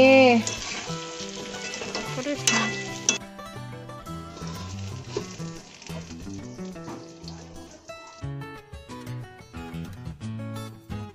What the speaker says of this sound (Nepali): त्यसपछि चिनीलाई हालेर पाँचदेखि सात मिनटसम्म यसलाई मिडियम या लो फ्लेममा पकाउने